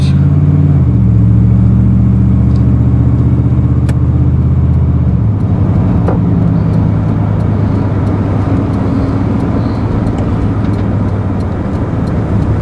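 A car pulling out at night and driving off, heard from inside as a loud, close engine hum that shifts pitch as it accelerates through the gears, with steady road rumble throughout.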